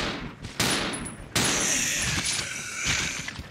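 Gunfire from the Resident Evil Zero HD Remaster video game: a few sharp, loud shots ring out in quick succession, each followed by a ringing, echoing tail with metallic and glassy overtones.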